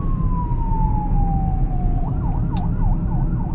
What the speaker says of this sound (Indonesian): di jalanan seperti ini harus kasih ambulans